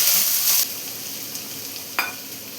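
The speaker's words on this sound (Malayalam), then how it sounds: "ഇതിലോട്ട് ഞാനിപ്പോൾ 2 സവാള ചോപ്പ് ചെയ്ത് വെച്ചതാണ് ചേർത്ത് കൊടുക്കുന്നത്." Chopped onions hit hot coconut oil with a bright hiss that fades after the first moment, leaving a quieter sizzle and a short scrape of stirring near the end.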